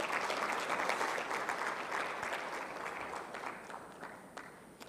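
Audience at the 2022 Health Research & Policy symposium applauding after an official opening, a dense wash of clapping that fades gradually toward the end.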